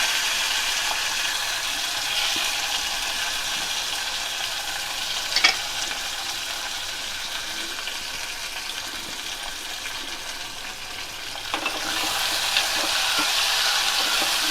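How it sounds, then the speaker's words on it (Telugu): Capsicum pieces sizzle and fry steadily in a pan for a capsicum tomato masala curry, a continuous close hiss with a couple of brief clinks partway through and a louder swell near the end. "ఇప్పుడు క్యాప్సికమ్ ముక్కలు వేసుకొని కొద్దిగా గోలనివ్వాలి."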